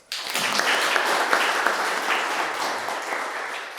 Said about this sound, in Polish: Bardzo raz jeszcze proszę o brawo dla Pani.